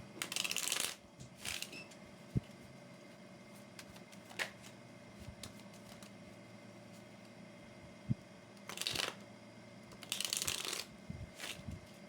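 Tarot cards are shuffled in several brisk riffling bursts separated by pauses, faint and close, over a low steady background hum.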